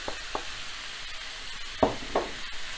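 Canned sweet corn cooks in a pan with a low background sizzle, punctuated by a few distinct clicks and scrapes of a spoon stirring it, near and without voices.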